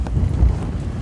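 Strong outdoor wind before rain at a rural outdoor cooking spot, a loud low buffeting rush pounding the microphone, steady and close with no voices.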